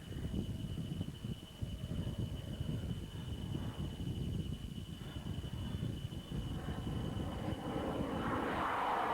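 A Boeing F/A-18 Hornet flies at the Australian International Airshow, a steady loud jet engine roar that holds throughout with wind buffeting the microphone and rising toward the end.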